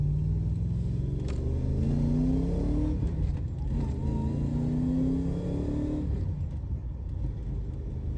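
Holden VS SS sedan's engine accelerating at speed, a steady continuous drone with rising pitch sweeps as the revs climb through gears, heard from inside the car with no talking.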